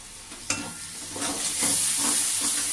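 Spice masala with turmeric and Kashmiri chili powder sizzles and fries in a pan while being stirred, steady hissing with rhythmic scraping strokes of the spoon repeating about every half second.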